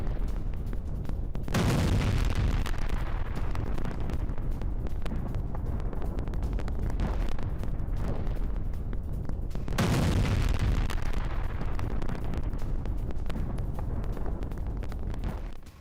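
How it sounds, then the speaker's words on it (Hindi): Two heavy booming blasts from a Russian missile bombardment of Ukraine, each a sudden loud rumbling explosion about eight seconds apart, over a continuous dense background roar with no talking. "रूस की बमबारी से दहले यूक्रेन के 10 प्रांत"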